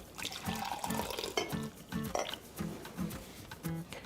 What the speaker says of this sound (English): I pour it into a cup.